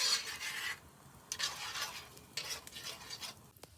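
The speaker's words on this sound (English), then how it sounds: "Give it one more stir." Seafood cornbread dressing mixture being stirred in a pot, giving a few bursts of close, wet scraping with short pauses between strokes.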